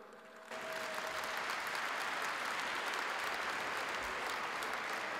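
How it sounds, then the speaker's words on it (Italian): Applause from an audience at a basketball club's season presentation starts abruptly after a quiet moment and continues evenly, moderately distant and without speech. "Qualcuno applaude"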